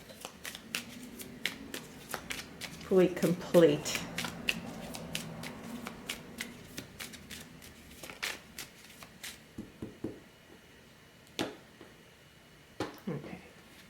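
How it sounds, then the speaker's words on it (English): A deck of tarot cards is shuffled by hand in a run of quick crisp riffles and flicks, some sharper snaps, close and fairly quiet, with a person speaking briefly. "I'm going to shuffle that again"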